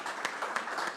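An audience at a company annual general meeting applauds in a steady wash of clapping, fairly quiet and continuous for a moment, with a few sharper claps standing out.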